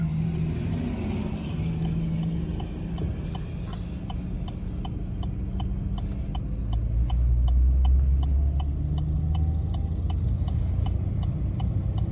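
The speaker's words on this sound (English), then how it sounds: "We're getting passed by a semi truck." Semi truck rushing past on the road, its low rumble building to a heavy, loud swell midway, heard from inside a vehicle over a steady rapid ticking and a constant engine drone.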